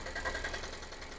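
An Ape BS4 auto-rickshaw engine with a beating problem runs just after starting, a faint, steady, rhythmic chugging idle heard alone for about a second.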